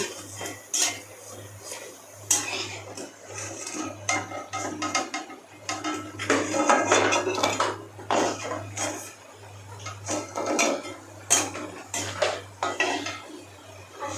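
Fried potato pakoras being lifted out of a pan with a metal utensil, repeated clinks and scrapes against the pan over a low hum, with quieter gaps between.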